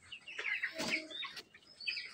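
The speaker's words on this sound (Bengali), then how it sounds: "সবগুলা মুরগি পানি খাইতেছে" Farm chickens cluck while drinking water, giving a string of close, high, quick clucks with a few brief pauses and no voices.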